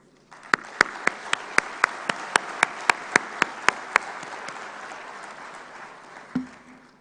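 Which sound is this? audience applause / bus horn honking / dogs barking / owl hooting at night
audience applause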